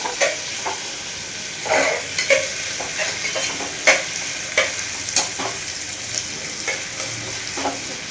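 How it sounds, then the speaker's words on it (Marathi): Onion sautés in a pan, a constant close sizzle broken by repeated sharp scrapes and knocks of a spatula stirring against the metal, no voices. "कांदा चांगला परतवून घ्यायचा आहे."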